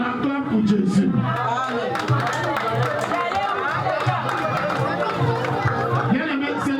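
A French-speaking church congregation at a pastor's birthday celebration loudly cheers and acclaims Jesus, a continuous swell of many overlapping voices shouting together close by.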